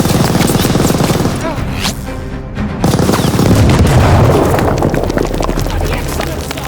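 A heavy grenade blast erupts mid-firefight in Call of Duty: Vanguard, a loud boom amid continuous rattling machine-gun and rifle fire, with battle shouting underneath.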